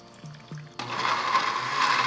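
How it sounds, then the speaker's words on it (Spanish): A kitchen blender purees tomato and onion for a soup, with two short taps before the motor kicks in and whirs steadily at close range. "Licuamos el tomate y la cebolla."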